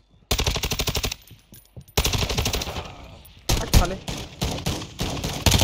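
Rapid automatic gunfire from Call of Duty Modern Warfare 2 fills the scene in loud rattling bursts separated by brief gaps, with a shotgun in play and a player's voice speaking briefly underneath.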